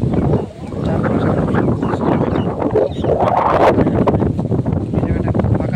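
Strong wind buffets the microphone in an open village field after overnight rain, a loud steady rumbling gust with faint talk beneath.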